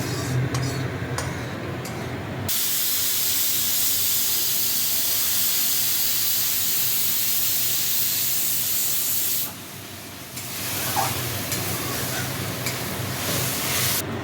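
Green chilies and gravy hit hot oil in a home kitchen, where fish dishes are being cooked for a family feast. A loud, steady sizzling hiss runs for several seconds, dips briefly, then surges back up close by.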